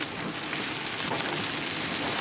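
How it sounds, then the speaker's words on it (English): Heavy rain pours down steadily, a dense, loud hiss of drops hitting surfaces with no letup and no voices over it. "It's raining super hard"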